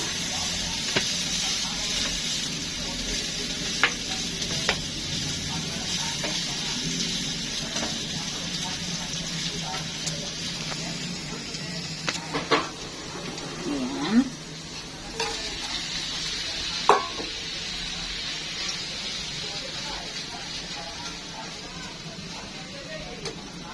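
Garlic and onion sauté in a hot pan, a continuous sizzle broken by occasional stirring clinks and scrapes, with a voice speaking now and then.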